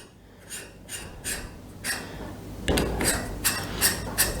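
A Sony A7R II camera is lined up and fitted onto a Z Stand clamp, giving a series of close, soft scraping and clicking handling noises in short bursts with no talk.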